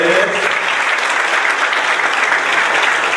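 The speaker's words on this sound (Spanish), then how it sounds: "Un aplauso para él." An audience at a training course on commercial oral trials applauds a guest, producing a dense, even wash of clapping that holds steady at a strong level for about three seconds.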